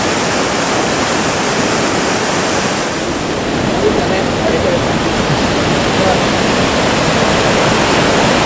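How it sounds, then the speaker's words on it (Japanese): Naena Falls in Myoko, Niigata, a large waterfall roaring as a dense, steady, loud wash of rushing water that never lets up, heard from a viewing point. "こっからでもかなり勇壮な滝ですね"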